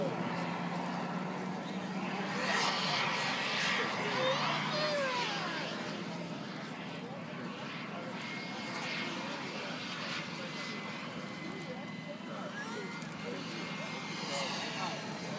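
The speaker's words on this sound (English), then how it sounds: "You're going to hear a couple of propeller-driven aircraft firing up." A pair of big propeller-driven RC model World War II Corsairs start up and run, giving a steady buzzing engine drone that stays fairly close and loud throughout.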